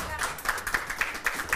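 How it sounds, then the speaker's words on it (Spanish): A studio audience on a Spanish-language fashion show claps in a quick, steady rhythm for a brief moment, with voices mixed in over the clapping. "aplausos, por favor, para la propuesta del señor Fabián Medina Flores"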